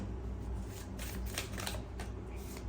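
Tarot cards being handled and shuffled, a steady soft papery riffling with light flicks and taps, close and continuous, with no talking.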